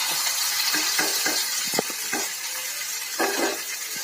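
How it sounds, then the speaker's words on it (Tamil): Mustard seeds splutter and crackle in hot oil in a pan while kovakkai poriyal is being cooked, with a steady sizzle under irregular sharp pops that sound close and moderately loud. "கடுகு நல்லா பொரியுது"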